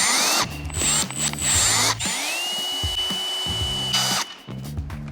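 A power driver backs screws out of a Toyota FJ62 Land Cruiser tail light, whirring in several loud, close bursts with ratcheting clicks between them and one long steady spin in the middle.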